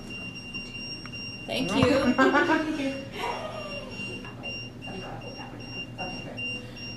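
Steady high electronic beeping tones from an EMF meter run throughout while a person speaks briefly over them, with some handling noise nearby, during a paranormal investigation in a house.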